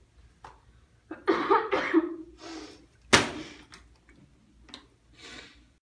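A few coughs and throat-clearing sounds, close and fairly loud, with a sharp knock or bump partway through and quiet gaps between.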